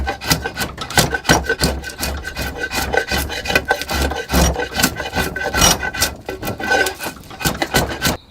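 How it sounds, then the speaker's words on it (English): A draw knife shaves wood from the belly of a Hupa/Yurok-style wooden bow at a workbench, producing repeated rasping strokes in an uneven rhythm, close and fairly loud. "get a draw knife to it, and start removing belly wood"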